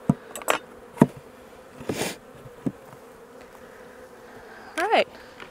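Bees buzz around an open beehive during a hive inspection, with close passes and sharp knocks and clunks of equipment mixed in, while a person talks nearby.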